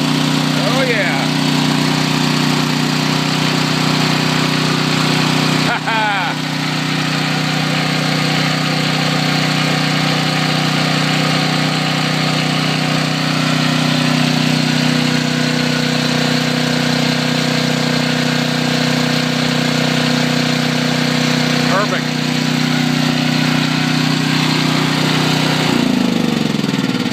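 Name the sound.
small gasoline engine idling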